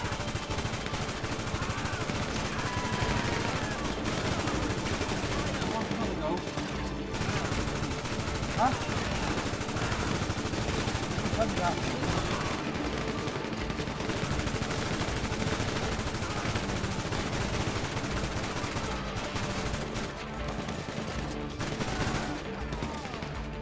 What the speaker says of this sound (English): I think we're getting shot at. Yeah, okay, we have to return fire.